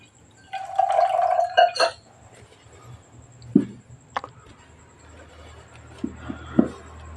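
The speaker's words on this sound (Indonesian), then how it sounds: "Buang dulu ya airnya." Water poured out of a new 3-cup moka pot, with a near splash and trickling that trails off into scattered drips against a faint steady background hum.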